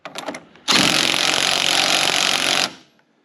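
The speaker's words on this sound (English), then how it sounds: "we're going to take a 24 mil and tighten both of the sway bar bolts on this side and this side all the way down" Power tool tightening sway bar bolts with a 24 mm socket on a Saturn SW2 during control arm replacement: a few brief taps, then a loud, close, continuous two-second hammering buzz that stops abruptly and fades.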